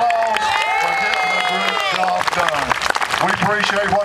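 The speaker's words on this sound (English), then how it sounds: "let's give them a big round of applause" Outdoor crowd at a state fair pig race applauding and cheering, with dense clapping and shouts throughout and a voice talking over the noise.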